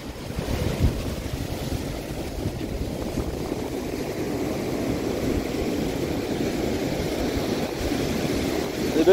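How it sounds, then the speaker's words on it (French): Sea waves roll and break in a steady, loud wash, with wind buffeting the microphone throughout and the surge swelling slightly toward the end. "Des belles vagues là"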